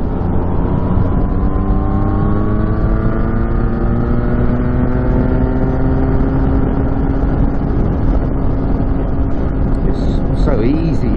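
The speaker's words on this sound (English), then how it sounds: "It's so easy, this MT09, to ride compared to the MT07." Yamaha MT-09 motorcycle on a group ride, its engine droning steadily and loud throughout with rising and falling pitch under gear changes, wind noise constant.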